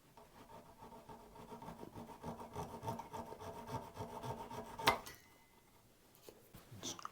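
A Telecaster guitar part clamped in a vise is trimmed by hand, giving quiet rhythmic rasping and rubbing strokes on wood, ending with a sharp knock and a pause before a few more scrapes.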